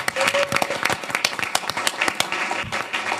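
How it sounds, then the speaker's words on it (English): Applause at a city council meeting honoring state championship teams: a dense, steady patter of many hands clapping together in an indoor chamber, lasting throughout at moderate loudness. "Can we give them a round of applause?"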